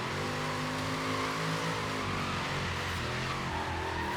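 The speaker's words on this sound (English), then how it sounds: "It's weird drifting on this game again." A car drifting in Forza Horizon 3 with a wheelspin drift build on stock, non-drift suspension: a steady, moderately loud engine drone with shifting revs that rises and sags, alone with no voices.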